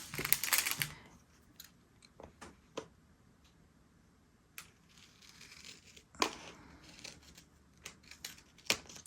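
Scissors snip through a diamond painting canvas in a series of close, sharp cuts, a quick burst at the start followed by scattered single snips with quiet pauses between, no talking.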